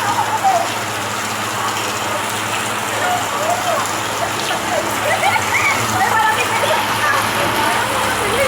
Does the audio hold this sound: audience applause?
no